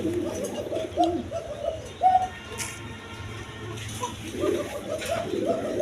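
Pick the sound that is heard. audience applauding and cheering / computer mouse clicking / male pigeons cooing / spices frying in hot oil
male pigeons cooing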